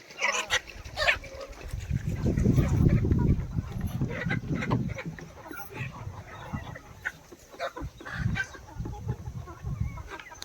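Chickens cluck and a rooster sounds on a poultry farm with desi, Sonali and Kaveri breeds, busy overlapping calls throughout with low rumbling, and people talking at times.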